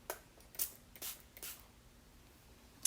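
A cleaning spray bottle from an iPhone cleaning kit is pumped to prime it: five short, sharp hissing spritzes, close and fairly quiet, four in quick succession and one more after a pause.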